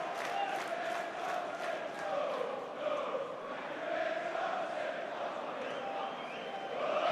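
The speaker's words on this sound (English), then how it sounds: "Healthy looking crowd here at the Valley." Crowd noise at the Valley during a Charlton Athletic v Brentford football match, 2009/10 season: a steady, dense roar of many voices held at a constant level throughout, with scattered shouts and a slight swell near the end.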